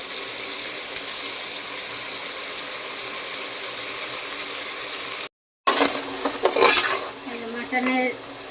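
Mutton biryani spice masala sautéing in a home kitchen pot, a steady sizzle with stirring for several seconds, a brief drop-out, then louder clinks of a ladle against the pot and scraping.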